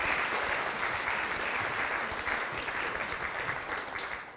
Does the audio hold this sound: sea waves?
no